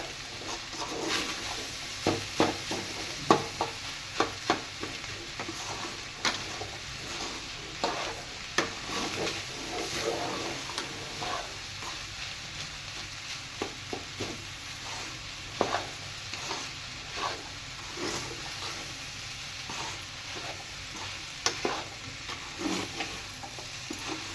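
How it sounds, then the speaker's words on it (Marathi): Pulao ingredients are sautéed and stirred in a pan, giving a steady frying sizzle broken by repeated scraping and clinking of a spoon against the metal at an uneven, busy rhythm, close and moderately loud. "मस्त असं परतून घ्यायचं आहे. पूर्ण मिक्स करून घ्यायचं आहे."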